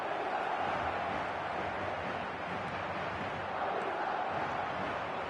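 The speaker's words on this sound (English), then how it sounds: "the crowd are reacting to that now" Football stadium crowd during a match, a steady broad roar of many voices that swells slightly toward the end, heard continuously without clear speech.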